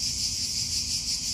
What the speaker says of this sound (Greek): άκου, τα τζιτζίκια δυναμώσανε τώρα